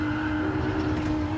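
A Renault RS01 '16 Group X race car in Gran Turismo Sport driven flat out, its engine a steady loud drone held at high revs throughout, with a faint tire squeal mixed in and no talking.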